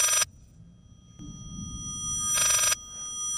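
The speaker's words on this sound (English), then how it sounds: "Stop ringing! You are not a phone, you are a painting." An electronic telephone-style ring comes from a haunted painting in Layers of Fear, two bright shrill bursts separated by a pause, loud and close over a low, murky room ambience.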